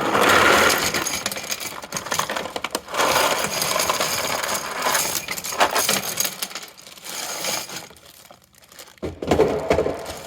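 Small metal T15 Torx wrenches dumped into a bag, giving clattering, jingling metal rattles and crinkling bag noise in bursts with short pauses, close and fairly loud, no talking.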